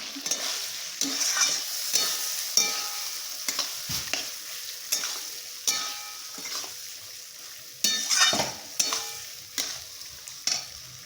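Papaya curry cooks in fish oil in a pan, a steady sizzle broken by repeated scraping stirs of a spatula at an irregular rhythm, close and clear with no talking.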